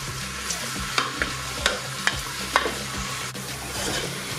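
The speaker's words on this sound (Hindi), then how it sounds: "अब मीडियम फ्लेम पर मैं प्याज को फ्राई करूंगी हल्का लाल होने तक" Sliced onions frying in oil in a pressure cooker on a medium flame for bhuna gosht, a soft continuous sizzle punctuated by about eight irregular spoon scrapes and taps, close, without talking.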